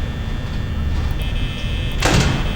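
An indoor door shuts with one short thud near the end, following a quiet stretch of room noise with a faint steady hum.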